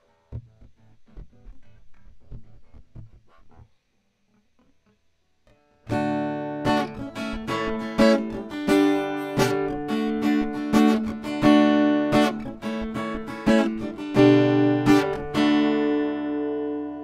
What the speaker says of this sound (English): So let's just have a go recording some guitar audio.